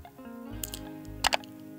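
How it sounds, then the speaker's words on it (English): Several quick keystrokes on a computer keyboard, with a short pair of sharp clicks near the end, set against a faint humming background. "Just I am typing some contacts here"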